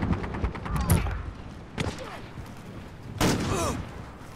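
Heavy gunfire from big guns in the video game Call of Duty: Modern Warfare: three loud, booming bursts with crackling tails, spaced a second or so apart, while players talk over the action.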